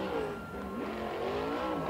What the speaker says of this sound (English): And he's doing donuts.